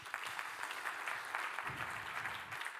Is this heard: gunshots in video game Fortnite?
no